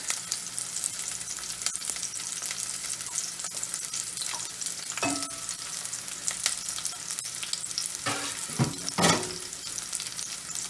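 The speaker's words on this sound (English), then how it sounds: "so that is frying up nicely" Oil sizzles and crackles steadily in a pan as scallions fry, with a few sharp clinks and scrapes of stirring near the end.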